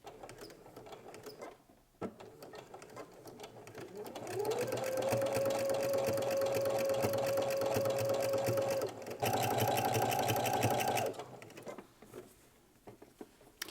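Home sewing machine back-stitching a seam on pajamas, a steady whirring motor with rapid needle clatter running for several seconds close up, shifting pitch briefly as it reverses, with someone talking before and after.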